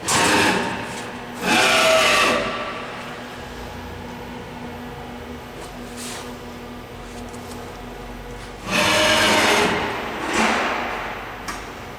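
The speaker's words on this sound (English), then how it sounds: "you'll actually see Z spindle turn on, and you'll see the feed. Just like one hole will do, real quick." A Belmont SY-1210TGUR CNC high-speed EDM drill runs its spindle and feeds in to drill a hole, giving a steady mechanical machine drone with two louder broadband bursts of whirring or hissing near the start and end.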